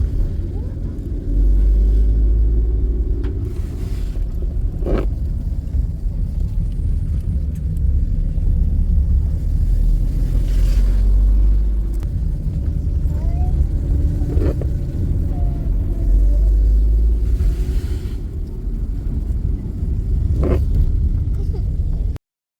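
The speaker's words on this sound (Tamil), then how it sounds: "கார் வருது." On a forested mountain pass between Pollachi and Top Slip, a car's deep engine rumble swells and fades in repeated waves over a long stretch, with occasional voices mixed in.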